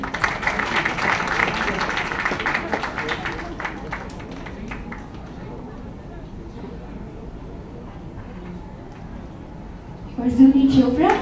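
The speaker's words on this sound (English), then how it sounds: "For Mrs. Nita Ambani, please clap everyone." An audience at a book launch claps for several seconds, the applause fading to a quiet murmur before someone speaks near the end.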